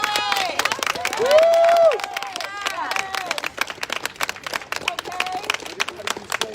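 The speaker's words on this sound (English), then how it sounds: "I want to give them a huge applause." A protest crowd outside the Kansas City police headquarters claps and whoops, with dense close-up clapping under loud shouted cheers and voices throughout.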